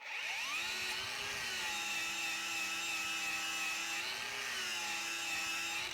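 An angle grinder fitted with a strip disc strips soft paint, giving a loud, steady high-pitched whine after a quick spin-up, holding constant with slight load dips and no talking.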